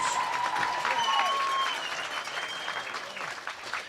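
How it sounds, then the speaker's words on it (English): Sustained crowd applause at a high school girls' sports third-place game, honoring the Kennett Lady Indians team, dense steady clapping filling the whole stretch with a few bright tonal squeals above it. "let's give a big round of applause for the Kennett Indians"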